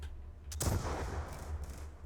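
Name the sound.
explosions and gunfire in Call of Duty video game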